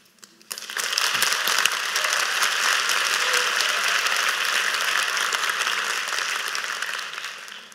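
An audience at a Korean lecture-style talk claps after a farm owner's speech, a loud dense burst of applause that starts suddenly and runs steadily, close and sustained, with no voices over it.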